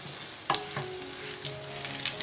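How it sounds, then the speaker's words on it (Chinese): Cheese-filled beef rolls fry in a lightly oiled flat pan, a soft continuous sizzle broken by a few brief clinks and stirring scrapes, close and fairly quiet. "卷好了就可以下锅煎啦"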